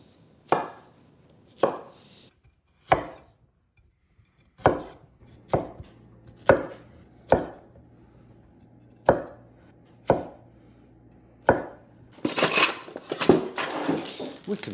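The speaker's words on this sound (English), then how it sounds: "I'm just going to cut these into odd wedges." A knife cuts peppers into wedges on a cutting board, about ten crisp, separate chops with short pauses between them, then a closing burst of rustling and crinkling, with no talk.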